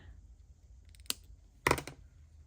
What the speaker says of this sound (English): And then I'm going to cut this little piece off.